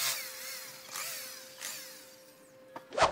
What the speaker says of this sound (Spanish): Haciendo huequitos y de una vez ir empernando